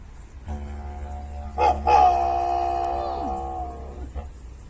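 A voice imitates a dingo with a long wavering howl that rises and falls over a steady low drone, close and fairly loud, during an Aboriginal cultural presentation in Kings Park.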